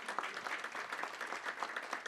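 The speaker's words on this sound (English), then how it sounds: "If we could give them all a round of applause," A round of applause for sponsors at a business summit, a faint, distant crowd clapping with a steady patter throughout.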